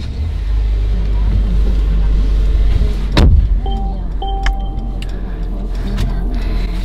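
A Mercedes-Benz C180's starter cranks in one short burst after a push-button start and the engine catches to a low idle, followed by a few electronic dashboard chimes.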